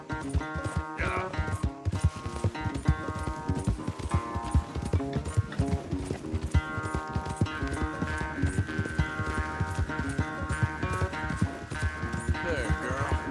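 A horse gallops in Red Dead Redemption 2, its hooves clip-clopping in a steady rapid rhythm under loud game music and voices through most of the stretch.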